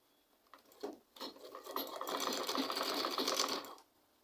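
A sewing machine stitches fabric for a spiral turban, starting with a few short stutters before running in a fast, steady whirring burst and stopping, close and fairly quiet.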